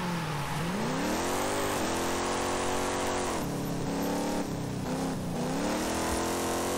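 An Oldsmobile Toronado in a racing game roars continuously and loudly, its engine and intake rising and falling as it revs, with no voices.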